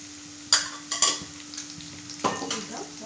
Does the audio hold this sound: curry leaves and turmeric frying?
yes